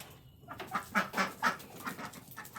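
Australorp chickens cluck softly in a rhythmic series of short calls as they leave their coop in the morning, with no talking.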